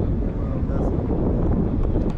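Strong wind buffets the microphone on a hillside near Gombe City, making a loud, continuous rumbling roar that fills the whole stretch, with only faint traces of a voice in the background.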